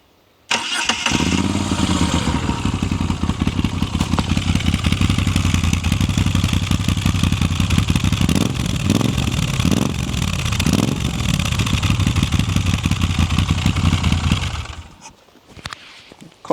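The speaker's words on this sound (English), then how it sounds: "Let's start her up." A Moto Guzzi V7 Stornello motorcycle with an aftermarket exhaust, baffles still fitted, cranks and fires up, then settles into a steady, loud, close idle with slight throttle blips before cutting off near the end.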